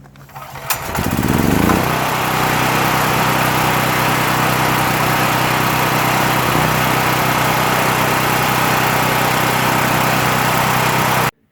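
A Powermate PM9400E portable gasoline generator (7500 running watts) is pulled to a manual start; after a short clatter and a brief sputter it catches within about two seconds and settles into a loud, steady engine drone up close.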